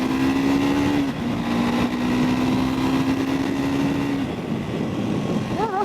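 Triumph Scrambler 400 X motorcycle pulling up a steep hill under full throttle, a loud steady engine drone with a rising tone, continuous throughout with wind noise, ending with a brief wavering rev.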